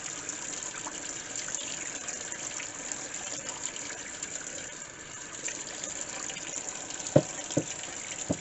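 Hot tap water runs steadily to rinse a cast iron pan, a continuous close gush with a couple of brief clunks near the end.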